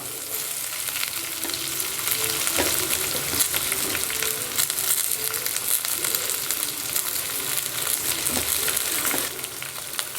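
Steady, loud sizzling of onions frying in a hot pan, a continuous crackling hiss with occasional stirring scrapes, no talking.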